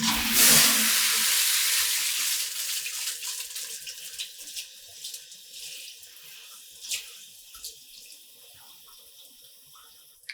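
Water gushes loudly from a tap into a sink, hissing steadily at first, then settling into a softer splashing stream with small clinks.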